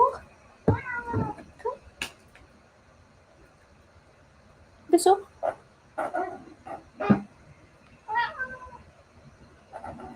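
A house cat meows several times in short, separate calls, some close and fairly loud, with a person talking softly between them.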